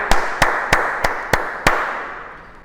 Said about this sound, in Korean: 다시 한번 축하의 박수.